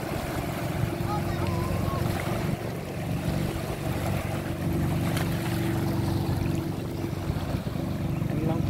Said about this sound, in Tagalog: may parating pong bangka